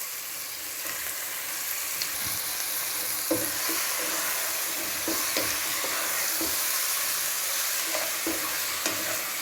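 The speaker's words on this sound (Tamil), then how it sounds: "இப்போ சிக்கன் நம்ம போட்டுக்கணும்." Chicken frying in a pan with sautéed tomatoes for chicken kuzhambu. A constant close sizzle runs through, with occasional soft knocks and scrapes from stirring, and no one speaks.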